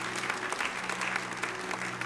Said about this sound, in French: Est-ce qu'on peut l'applaudir, ce conseil?